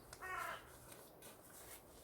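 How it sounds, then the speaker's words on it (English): Crows cawing over a countryside kitchen garden in December, one short distant harsh caw early on followed by faint outdoor ambience, with no talking. "You hear the crows."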